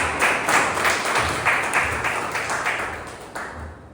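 Audience applause at a Toastmasters club meeting: a room of people clapping steadily, moderately loud and close, in an even rhythm that thins slightly before fading near the end.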